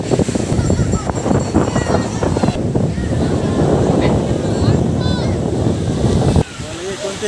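Loud gusty wind buffets the microphone with rumbling bursts, while voices talk faintly underneath, then the roar drops suddenly near the end.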